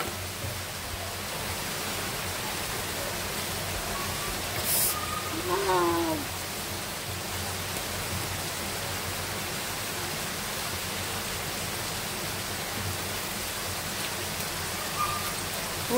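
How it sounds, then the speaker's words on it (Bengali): Heavy rain pours down in a dense, steady hiss that holds unbroken for the whole stretch, with a brief faint voice-like sound partway through. "অনেক জোরে জোরে বৃষ্টি হচ্ছে, দেখেন কত জোরে বৃষ্টি হচ্ছে"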